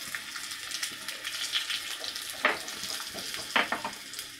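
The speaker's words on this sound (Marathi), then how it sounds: "छान डाळी छान तळून घ्यायची आहे।" Urad dal and chana dal frying in oil for a tadka for curd rice, a close continuous sizzle with a few sharper crackling bursts, and no speech.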